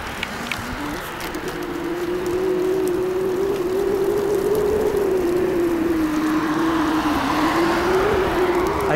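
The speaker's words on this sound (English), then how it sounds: "There's a car coming" A car's engine hum grows steadily louder and holds a sustained droning tone as it approaches along a foggy road, with faint background noise.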